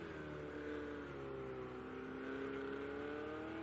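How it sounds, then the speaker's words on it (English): A Ferrari GTE race car's engine drones steadily in a racing video game, holding a smooth sustained pitch with slight rises and falls, fairly faint and without talk. "trying to limp this Ferrari home in 4th place"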